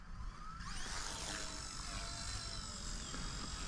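Whining rotor and motor buzz from a Flitezone Hughes 300 RC helicopter flying outdoors, rising sharply after a quiet start and then holding a steady, fairly close hum.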